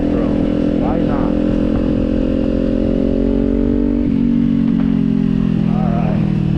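Kawasaki motorcycle fitted with a Leo Vince exhaust, ridden on back roads, its engine droning loud and steady throughout with a gear change partway, the rider's voice faintly under it.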